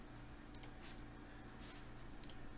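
Two pairs of quick computer mouse right-clicks, faint and close, separated by a quiet pause, with soft background hiss and no talk.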